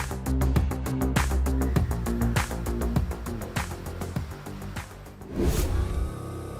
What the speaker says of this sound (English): The Taycan then sets off on its way.